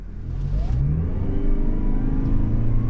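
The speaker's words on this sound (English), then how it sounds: "The engine comes on, as you can hear," The petrol engine of a 2023 Toyota Prius Prime XSE Premium hybrid kicks in and revs up as the car accelerates from a stop, rising in pitch, close and loud.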